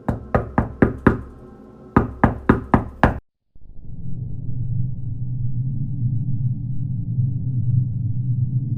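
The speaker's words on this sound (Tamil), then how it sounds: "நம்ம கதவை தட்டிட போகுதுடா" A door is knocked on at night in a horror setting: two loud, close bursts of five or six rapid raps, a brief silence, then a low ominous rumble.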